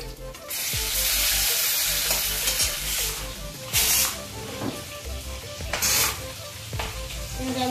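Small pieces of fish frying in a pan with a continuous loud sizzle, broken by several scraping stirs and clinks of a utensil against the pan.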